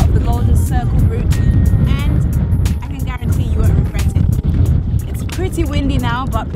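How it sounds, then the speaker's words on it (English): Strong wind buffets the microphone at an outdoor natural hot spring lagoon in Iceland, a loud continuous rumble with voices and chatter of bathers nearby. "Pretty windy now"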